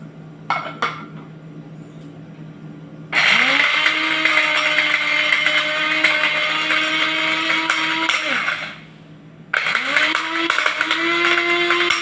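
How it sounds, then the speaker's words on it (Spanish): A blender grinds a batch into flour in a kitchen, loud whirring bursts after some clinking of dishes, running about five seconds, pausing, then starting again. "Vamos a darle otra molida para que nos quede más harina."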